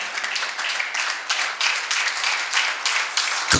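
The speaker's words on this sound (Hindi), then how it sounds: "एक बार जोरदार तालियां बजनी चाहिए अपनी ओर से" Sustained clapping from a hall audience at a literary event honoring a guest, even and fairly close, with a sharp knock right at the end.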